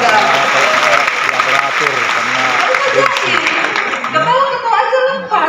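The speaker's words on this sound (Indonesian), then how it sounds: "Tepuk tangan dong buat saudara." Church congregation breaking into applause, a dense, steady wash of clapping with some chuckling mixed in, loud and close, fading slightly near the end.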